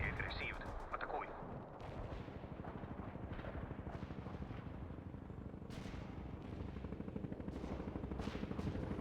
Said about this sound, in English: Launching artillery strike.